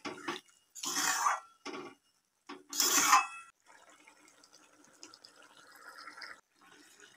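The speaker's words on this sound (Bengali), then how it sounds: "এবারে অল্প একটু জল দিয়ে সিদ্ধ করে নেব।" Water is poured into a pan of ridge gourd and potato, making a few short splashing gushes followed by a quieter bubbling trickle, close and fairly faint, with no speech.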